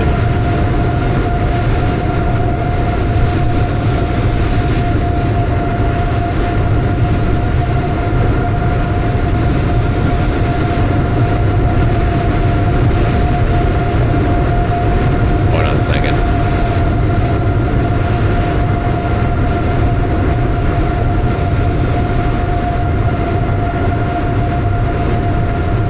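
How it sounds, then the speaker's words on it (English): Cabin noise of an Aerosoft CRJ7 regional jet in a flight simulator: a loud, steady engine and airflow drone with a constant whine that runs unbroken for the whole stretch, with faint talk beneath it. "Your plane's noise makes it hard to hear you"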